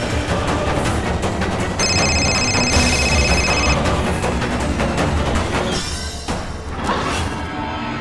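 A telephone rings in steady bursts over a loud, busy background of noise and clatter, with no talking.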